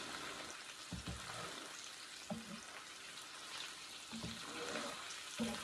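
Onions sauté slowly over low heat in a pan, a steady soft sizzle running throughout with a few brief stirring knocks, close and fairly quiet.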